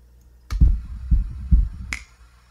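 A recorded kick drum sample triggered in Ableton Sampler lands as three deep, punchy thumps about half a second apart, followed by a brighter click, heard alone and up close.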